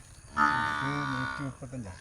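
A Murrah buffalo on a farm lets out one loud, drawn-out moo close by, lasting over a second, followed by a shorter low grunt.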